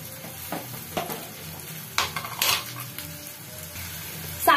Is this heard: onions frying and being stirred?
yes